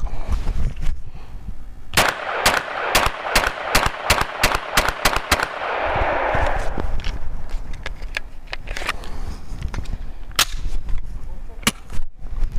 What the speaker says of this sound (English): 10 rounds, fairly rapid fire from 25 meters across the range.